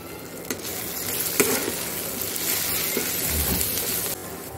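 Agri masala and turmeric sizzle in a hot pan while being stirred, a steady frying hiss broken by a few scraping clinks of the spoon, close and without talk.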